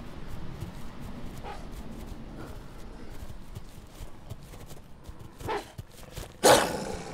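Dogs bark in the horror farming video game We Harvest Shadows, with faint yelps over a steady background and two louder, sharper bursts near the end.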